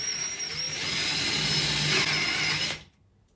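A power drill with a 10mm bit whines steadily for under three seconds, its pitch shifting slightly as it bores, then stops abruptly into quiet.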